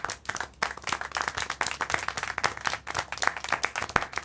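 Loud, close group clapping in the video game Syberia: The World Before, a fast irregular patter of many hands that goes on without pause.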